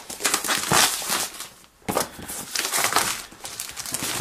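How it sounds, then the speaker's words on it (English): Plastic wrap on a boxed Apple MacBook Pro being cut and torn open, a close crinkling and crackling rustle in two busy bursts broken by a short pause. "first thing we need to do is cut the plastic along the back"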